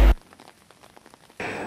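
Rain falls in Dalhousie, soft pattering drops on a surface, with louder bursts of downpour at the start and end.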